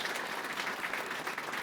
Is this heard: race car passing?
no